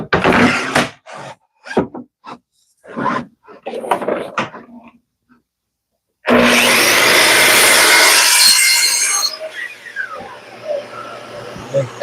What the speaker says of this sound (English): sanding is the worst